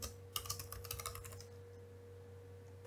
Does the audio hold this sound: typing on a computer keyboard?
yes